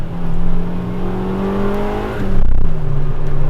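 A Honda Civic Type R EK9 engine revs hard under sustained throttle through a corner, its rising harmonic whine loud and close, briefly dipping around a gear change before pulling strongly again with no voices.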